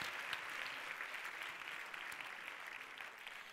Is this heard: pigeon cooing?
no